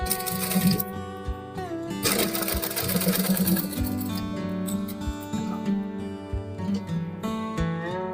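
Sewing machine re-stitching a seam on a shirt collar made by a tailor, a steady close whirring hum of needle and motor running throughout, with light clicks and handling noises, no talk.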